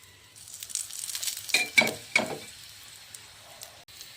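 Aloo paratha fries in oil in a pan, a soft sizzle that swells into a few crackling spatters and then settles back to a low hiss.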